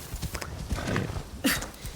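Horse hooves clip-clop in a brisk rhythm in the video game Assassin's Creed Shadows, moderately close, with a louder footfall burst near the end and no talk.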